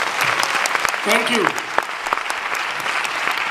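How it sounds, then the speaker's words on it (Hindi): An audience at a company promotion-day meeting claps loudly for Tiwari ji, producing a steady wash of many hands, and a single voice speaks briefly over it. "तिवारी जी के लिए तालियां होनी चाहिए जोरदार"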